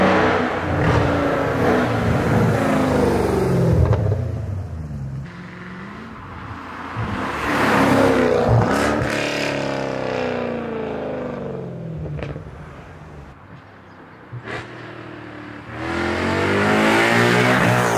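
A Mercedes C63 AMG W204 station wagon with a naturally aspirated V8 and a loud exhaust, revving hard in repeated surges with rising and falling pitch, close up and loud, with brief tire noise and no talking.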